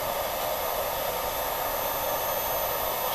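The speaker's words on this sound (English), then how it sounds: "fan comes on when you hit run" A newly installed CNC spindle motor with its cooling fan running, giving a steady, loud broadband whir that holds constant throughout with no talking over it.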